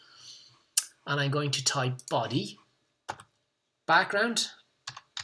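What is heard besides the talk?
typing code on a computer keyboard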